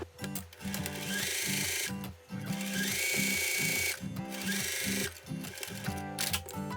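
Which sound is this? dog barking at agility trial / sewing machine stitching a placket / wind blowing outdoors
sewing machine stitching a placket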